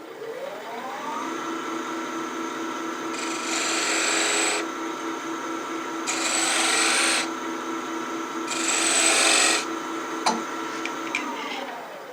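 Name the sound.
point tool cutting V-grooves in a pendant on a lathe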